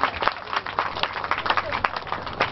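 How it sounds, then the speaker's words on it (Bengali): Loud applause from a crowd at a village football tournament opening, greeting a local cricketer, rapid uneven clapping rising and falling, heard close alongside a voice speaking. "ওর জন্য জোরে হাততালি হয়ে যায়।"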